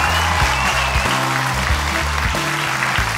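A studio audience at a children's talent TV show bursts into dense, loud applause, a continuous wash of clapping from many hands that holds steady for a few seconds.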